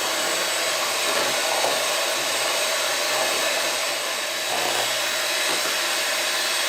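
Small electric mixer whirring steadily through rum fruit cake batter, a loud, close, continuous motor hum with slight dips in pitch as it works the mix.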